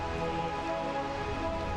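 Steady rain falls in the Realm of Eternal Rain area of the Final Fantasy IX video game, an even, continuous hiss with no pauses.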